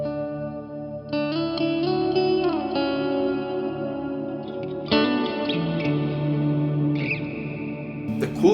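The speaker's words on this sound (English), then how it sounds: "mixing the freeze with a reverb with some extra flavors on top" Sustained, shimmering tones from a freeze effect blended with reverb, modulation, air and flux on a Cornerstone NUCLEO pedal, chords held and switched a few times with a long smeared tail, no voices.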